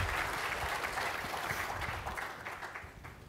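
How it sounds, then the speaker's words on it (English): An audience at a panel event applauds with dense, steady clapping that holds for a few seconds and then gradually thins and fades. "Please give him a round of applause."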